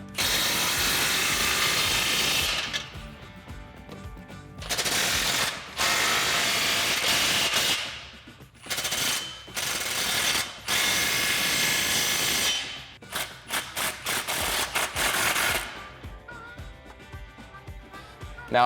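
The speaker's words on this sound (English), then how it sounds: "tighten down all those clamps with a 15mm socket" A ratchet with a 15mm socket tightens clamps on a MBRP XP Series axle-back exhaust for a Jeep Wrangler JL 3.6L, giving loud, close clicking bursts with short pauses between sets of strokes.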